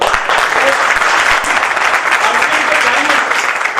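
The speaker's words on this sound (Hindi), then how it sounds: "एक बार जोरदार तालियां" Loud, dense applause from a large audience at an RCM business seminar, continuous clapping filling the whole moment.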